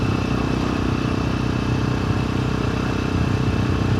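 A Husqvarna SM610 single-cylinder supermoto engine drones steadily while riding, with a continuous low throbbing mixed with wind noise, heard close and without talk.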